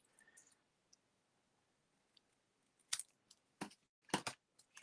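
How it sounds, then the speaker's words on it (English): Several sharp snips of scissors cutting paper, spaced out after a quiet stretch, with a quick double cut near the end. "just do that with scissors."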